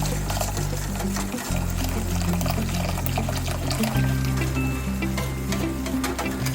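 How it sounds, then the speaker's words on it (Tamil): A custard powder mixture is poured into milk for homemade jigarthanda, a continuous liquid pour over a low steady hum. "இந்த கஸ்டர்ட் பவுடரை இதில் ஆட் பண்ணிடலாம்"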